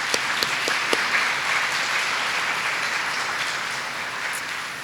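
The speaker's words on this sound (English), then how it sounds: "So I just want to give her a round of applause for her leadership." An audience at a teacher-of-the-year event applauding an honored teacher, with broad sustained clapping from a large crowd, a few sharper claps up front early on, the applause slowly easing toward the end.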